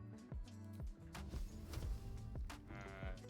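A pig in the Baldur's Gate video game gives a few soft bleating grunts and squeals at low volume, with short bursts of game action around them.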